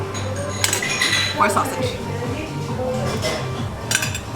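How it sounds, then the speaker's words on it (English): Cutlery clinks and scrapes against plates during a Bosnian meal with bread at a restaurant in Ljubljana, scattered light metallic taps coming through under ongoing conversation at the table. "I should put my cutlery down for a minute."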